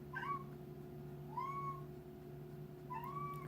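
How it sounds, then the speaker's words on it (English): A house cat meows indoors three times, evenly spaced, each a short rising-falling call, fairly faint over a steady low electrical hum, with no talking. "There's a cat in here."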